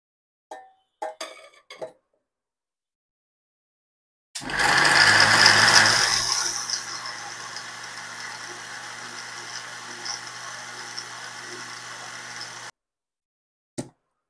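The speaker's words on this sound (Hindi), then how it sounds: "अब इसे हम मिक्सी में मैश करेंगे" An electric mixer grinder mashing plums whirs loudly for several seconds, starting with a harsh burst and then settling into a steady grinding hum before it stops abruptly.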